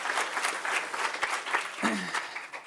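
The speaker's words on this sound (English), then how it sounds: "So if we could just give a quick round of applause for them." Audience applause at a browser developer conference in Munich, a dense burst of clapping from a roomful of people that runs steadily for a few seconds before tapering off.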